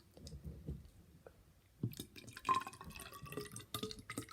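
Water is poured carefully into a measuring container in small, faint splashes and drips close by, with brief clicks in between.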